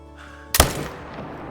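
A single sharp rifle shot while hunting in Call of the Wild, a sudden close crack over quiet ambience that decays quickly into a short tail.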